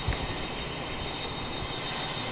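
A train in the Roblox game Indian Railway runs steadily, with a continuous rumbling rail noise and a thin high whine held throughout. No one speaks.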